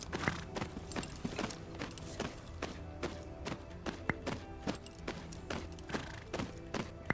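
Steady clip-clop of horse hooves during a ride in the video game Tales of Rein Ravine, a brisk regular rhythm of moderate-volume thuds running continuously with no voices.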